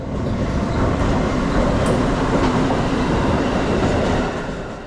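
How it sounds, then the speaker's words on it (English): Amtrak Regional Train 164 rolling past a tower on track 1 near a bridge work site, a loud steady rumble of wheels and cars close by, with no clear horn blast standing out. "Now Amtrak shows up to make themselves known with Regional Train 164 running by the tower on track number 1, which blows the horn"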